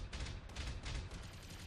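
Rapid turret gunfire from Battletech, a dense, steady burst of overlapping shots that stays loud and close for the whole moment without pause.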